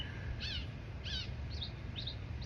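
Birds singing outdoors during van life, several short bright chirping phrases repeated about once every half second, faint and somewhat distant over a low steady background rumble.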